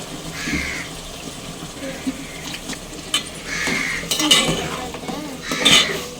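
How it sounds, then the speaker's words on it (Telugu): Chicken pieces being washed in a metal pot, with repeated clinks and scrapes of metal and splashing water close by, interrupted by brief bursts of louder clattering. "నీట్గా చికెన్ అయితే కడిగి వేసేసుకుందాము"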